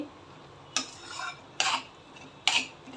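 A spoon scrapes and stirs eggs for egg bhurji in a steel pan over low gas, making three distinct scraping strokes at an even pace over a faint background sizzle, with no talking.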